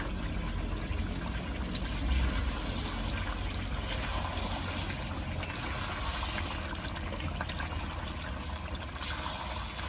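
Water used to rinse a pot is poured into a pot of basmati rice biryani with potatoes, a soft steady trickle and splash running throughout, close by, with no talking.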